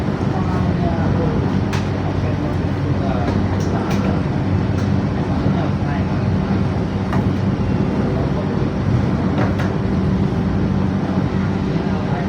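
The Wijaya Kusuma passenger train, an older train running between Banyuwangi and Cilacap, runs with a steady loud rumble and faint rhythmic clatter, heard from inside a moving carriage.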